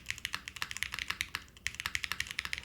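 Steady fast typing on a Cheeseboard mechanical keyboard with a CNC-machined case, a close run of crisp, evenly spaced key clacks with a soft bottom-out and no voices.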